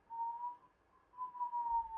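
A person whistles one steady pitch, faint and breathy, in two held stretches broken by a short pause.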